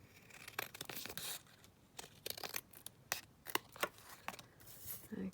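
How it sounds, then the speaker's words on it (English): Scissors snip along the edge of a decoupaged paper index card, giving a run of faint, close, crisp cuts and papery rustles in a quiet room. "let's just cut this one down"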